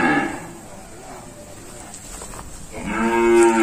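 Cattle on a Vietnamese farm selling Sind-cross cows and a bull give two long, loud moos, one at the start and one at the end, with faint background between.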